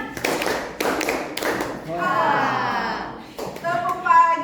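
Children in a classroom clapping together in a chant, with a few sharp, loud group claps in rhythm, while voices call and chant between and over them.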